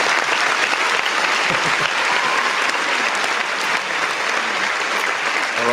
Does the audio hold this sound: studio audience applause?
yes